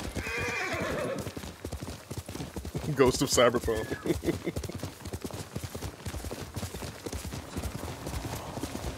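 Rapid hooves clip-clop at a gallop in the video game Ghost of Tsushima, with a horse whinnying near the start, while someone talks over the rhythmic pounding.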